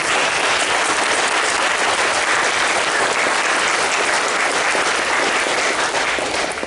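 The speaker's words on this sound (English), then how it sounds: "round of applause" Sustained applause from an audience at a stage discussion event, dense and even clapping throughout, fairly loud with no voices standing out.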